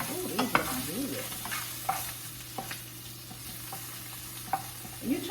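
Food frying in a skillet for breakfast, with a steady soft sizzle and occasional scrapes and stirring clicks close by.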